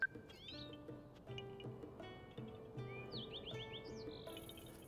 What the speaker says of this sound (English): I'm hearing these bird chirps and it's driving me absolutely crazy that I can't pinpoint them